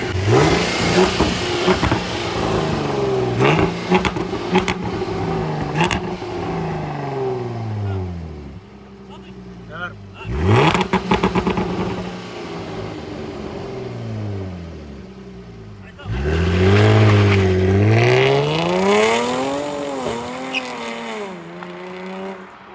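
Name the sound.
car engine revving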